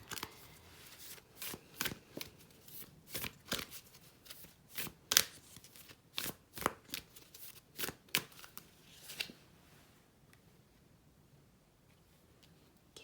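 Tarot oracle cards shuffled by hand in a rapid series of crisp riffling bursts and slaps, close and fairly quiet, trailing off near the end.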